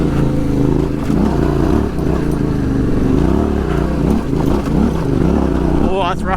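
A Yamaha Tenere 700 motorcycle engine rides off-road on single track, a loud, close, continuous roar that rises and falls with throttle changes, with a rider's voice occasionally over it.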